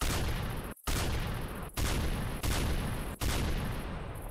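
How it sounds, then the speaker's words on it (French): Booming sniper rifle shots in the video game Minecraft come in a quick run of about five loud blasts, each followed by a short cut-off gap. "J'ai mon fusil de snipers."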